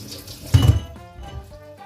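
Water poured from a tap or vessel to rinse and wet sticky rice in a home kitchen, a short splashing gush mid-clip over quieter running-water trickle, close and alone.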